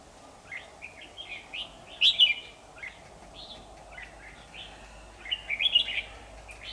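A red-whiskered bulbul sings outdoors in bursts of bright, fluty chirps and warbles, with louder phrases near the middle and end over a soft, steady background hum.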